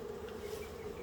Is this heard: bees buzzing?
yes